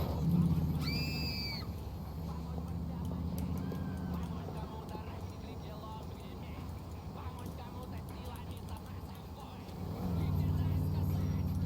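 Car engine in Grand Theft Auto IV, idling and revving steadily as the car is stuck and being driven, with a louder rise near the end and game ambience underneath.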